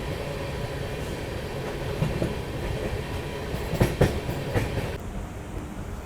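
A Gorakhdham Express passenger train runs steadily past a freight train, giving a loud continuous rumble with rhythmic clickety-clack from the wheels over rail joints, heard alone.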